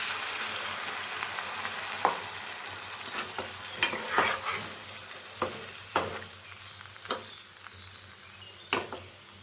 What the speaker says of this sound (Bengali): তরকারির সাথে চিংড়ি মাছগুলোকেও 1-2 মিনিট ভালো মতন এভাবে নাড়িয়ে চাড়িয়ে নেব।